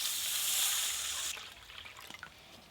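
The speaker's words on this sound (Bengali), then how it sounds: "এবার জল দিয়ে দেবো।" Water is poured into a pan of stirred lentils, a steady rushing pour lasting just over a second, followed by scattered light drips and trickles, with no talking.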